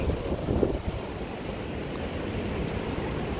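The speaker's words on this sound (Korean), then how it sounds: "오늘 파도가 어마무시합니다." Heavy ocean surf crashes and roars at the seaside, a loud continuous wash of waves mixed with strong wind buffeting the microphone.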